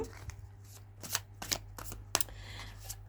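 Illuminati tarot cards are shuffled by hand in a quiet room, giving a series of soft, crisp riffling bursts and snaps spaced irregularly over a few seconds, close to the microphone and fairly faint.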